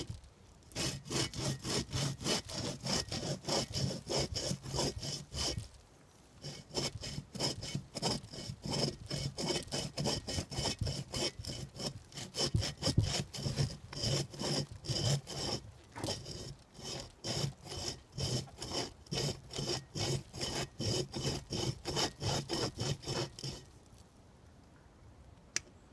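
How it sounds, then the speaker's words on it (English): A hand saw cuts through a piece of wood for firewood out in the woods, its steady back-and-forth rasping strokes close and continuous, with one short pause partway through before it stops near the end. "We'll try cutting off the top of this and see if I can't get it for some firewood"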